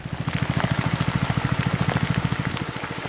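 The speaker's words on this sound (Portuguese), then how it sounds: "Nós vamos ter que sair daqui abaixo de chuva." Steady rain at Lake Amanã in the Amazon, close and even, with dense drops pattering on a surface in a continuous rhythmic wash and no voices over it.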